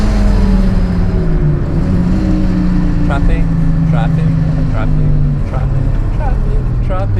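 A turbocharged Mazda MX-5 on the Nürburgring drones loudly from inside the cabin, engine pitch sweeping down then climbing under acceleration, with excited whoops over it.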